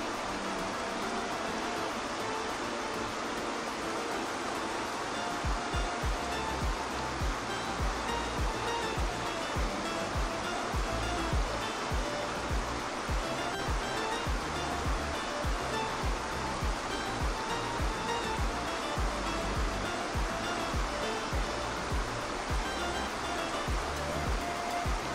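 Niagara's Horseshoe Fall, with its 762-metre crest, roars at Terrapin Point as a loud, steady wash of falling water that continues unbroken throughout, with no clear talking.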